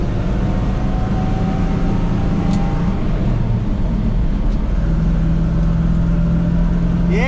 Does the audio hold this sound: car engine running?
yes